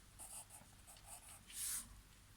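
Pencil or pen scratching on paper at a faint, close level, in short quick strokes followed by a longer scribble near the end.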